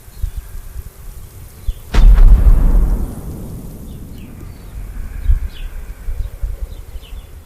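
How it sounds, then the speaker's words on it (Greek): A single loud, booming explosion from a detonated old milk can or small cannon at Easter bursts out, followed by a long rumbling decay, with a softer thump later against faint outdoor ambience. "πυροδοτούν παλιούς κάδους γάλακτος ή μικρά κανόνια, δημιουργώντας εκοφαντικές εκρήξεις"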